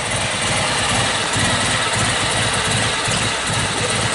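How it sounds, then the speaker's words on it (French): A very rare Panhard L5 convertible's engine idles steadily and loudly throughout, with a low rumbling vibration and no pauses. "le moteur qui joue comme ça"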